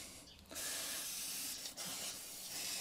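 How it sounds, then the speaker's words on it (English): WD-40 sprayed onto lawnmower paintwork on a Mountfield 474 mower: close aerosol hissing in two bursts with a brief gap, steady and bright, without speech. "even just a bit of WD-40 just to soak into the paintwork brings them up an absolute treat"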